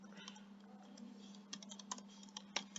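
Soft, quick keystrokes on a computer keyboard while Python code is typed, faint and close, clustering into short bursts toward the end over a low steady hum.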